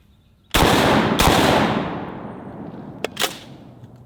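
Shotgun firing a Super XX Magnum number 6 birdshot load from under 10 yards, a single loud close blast with a long decaying tail, followed by a couple of sharper rattling impacts.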